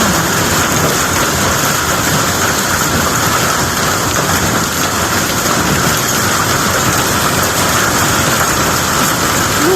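Large hailstones pelt a roof in a dense, loud, unbroken drumming clatter that stays steady throughout, like a heavy downpour, with no voices.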